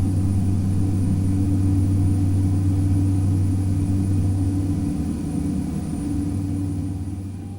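A Boeing 737-800 in the X-Plane 11 flight simulator rolls for takeoff, a steady loud engine roar and low rumble held throughout, easing slightly toward the end with no talking over it.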